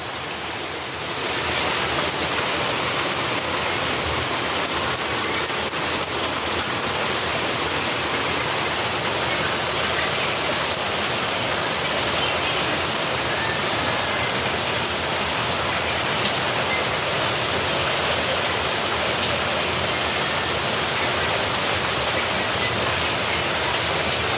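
Heavy rain pours down steadily, with a continuous rushing hiss of rainwater running across a road, loud and unbroken throughout.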